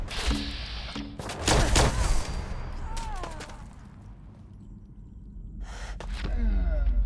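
Gunfire and combat sounds in the video game Fallout 4, with a few loud bursts and impacts over a rumbling game soundscape, partly broken by shorter sounds and gasps.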